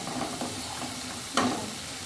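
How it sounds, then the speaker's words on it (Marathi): Cauliflower, peas and carrots frying in oil are stirred in a pan, a steady close sizzle with soft scraping strokes and one sharper clink of a utensil midway. "व्यवस्थित हलवून घेऊया"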